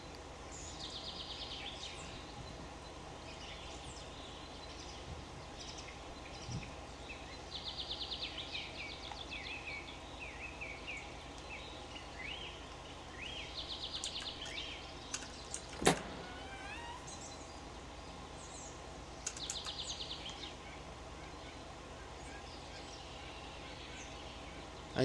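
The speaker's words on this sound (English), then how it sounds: "I can still hear the birds." Birds chirp in scattered bursts over a steady ambient hum in an indie horror game, faint to moderate calls recurring throughout with a sharp click partway through.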